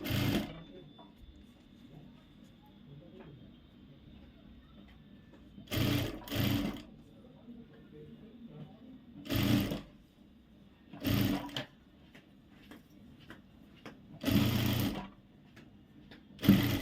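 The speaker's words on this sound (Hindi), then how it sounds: "और ये नेक में हमें कवर सिलाई लगानी है।" Domestic sewing machine running cover stitching along the neck of a child's frock, in five short loud bursts separated by quiet pauses, close by with no talk.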